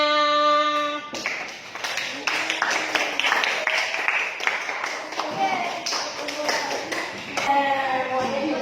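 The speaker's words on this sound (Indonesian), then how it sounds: "kasih aplaus untuk semuanya" Students in a classroom break into applause, a steady patter of many hands clapping for several seconds, with a teacher speaking before and over it.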